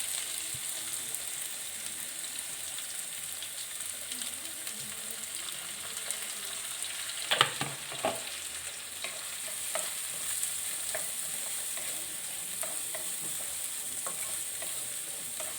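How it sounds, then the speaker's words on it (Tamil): Onions sauté in hot oil with fennel seeds, cinnamon and cloves for a potato milk curry, giving a soft continuous sizzle with a few spatula stirs and clinks, fairly quiet and close. "வெங்காயத்தை போட்டு நல்லா இதில் வதக்கிடணும்"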